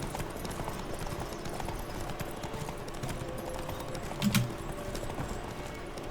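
Galloping horse hooves in The Witcher 3 video game, a fast, steady clip-clop rhythm under a constant rush of wind and game ambience, fairly faint, with no talking.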